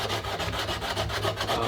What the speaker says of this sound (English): what I'm doing is stripping the stock